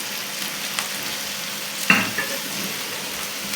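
Green garlic stir-frying in a pan over medium flame while making Punjabi dhaba-style roasted baingan bharta, a steady soft sizzle with a brief louder clatter of stirring near the middle.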